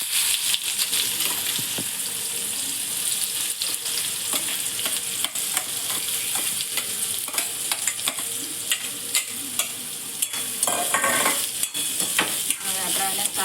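Onions fry in a pan with cumin and asafoetida, giving a steady close sizzle. Scraping stirs and light clinks of utensil on pan break through it now and then, with no voices.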